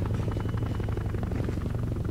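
Distant military helicopter approaching in Medal of Honor Warfighter, a steady low rotor thump and engine drone holding at an even level throughout without talk.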